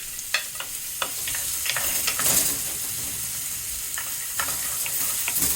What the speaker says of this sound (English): We will add some oil, and we will add the other half of the onion, the garlic, and the hot chilies.